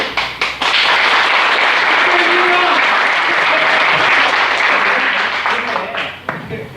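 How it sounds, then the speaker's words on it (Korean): A few claps start, then a crowd breaks into loud sustained applause at a regional alumni association annual general meeting, with faint voices under it before it tapers off. "박수"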